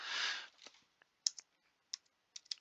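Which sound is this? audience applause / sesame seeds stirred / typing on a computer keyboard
typing on a computer keyboard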